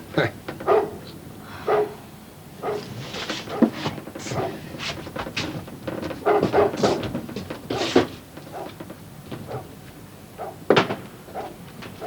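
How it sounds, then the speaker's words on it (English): A dog barks and yelps repeatedly indoors, the sharp barks fairly close and mixed with people talking and a few dull thumps. "I'll have to see about that dog"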